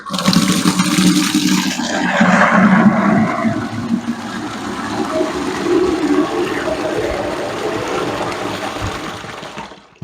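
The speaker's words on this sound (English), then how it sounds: "The next job is to drain the water again." Water gushes and drains out of a wax rendering canner used for beeswax, a loud turbulent rush that gradually eases into a softer steady trickle before cutting off.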